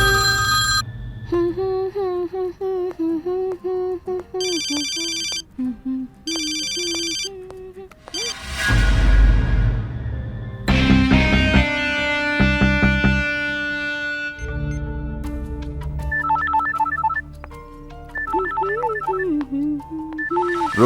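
A telephone rings in a Hindi action film scene, an electronic ringtone repeating in short bursts with a loud musical sting in the middle, then the ringing returns over background score.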